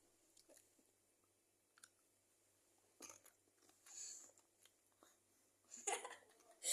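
Someone chews Doritos chips with dip, making faint, wet smacking and crunching close by, broken up by laughter and people talking.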